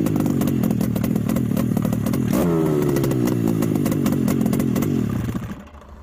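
A Rotax 800R E-tec snowmobile engine starts and runs with a loud, rapid putter, revs briefly partway through, then dies away at the end.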